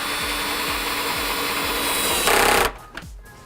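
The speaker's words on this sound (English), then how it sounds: "we can run our screws through the back of the unit into our anchors" A power driver runs screws through the back of a console air-conditioning unit into wall anchors, a steady close whirring drone with rhythmic low pulses that swells briefly and then cuts off into near quiet.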